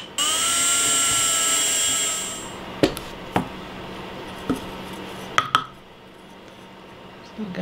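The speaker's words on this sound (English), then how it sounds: "then I can continue drilling through the plywood" A power drill whines steadily for about two seconds drilling through plywood, then stops, followed by a few sharp knocks and clicks spaced apart.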